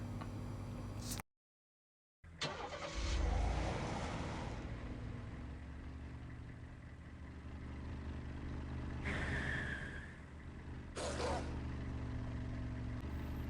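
Car engine in the survival video game Last Island of Survival, a steady low droning hum with a brief dropout near the start, under a man's intermittent speech and other game sounds.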